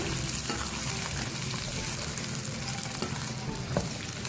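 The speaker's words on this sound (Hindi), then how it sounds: "अब इसको फ्राई करेंगे।" Okra cut into medium pieces fries in hot oil, giving a steady, dense sizzle and crackle that runs continuously at close range, with occasional stirring clatter and no voices.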